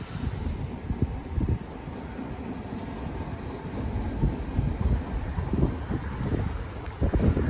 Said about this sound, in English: 395011 Catherine Granger to Ramsgate via Deal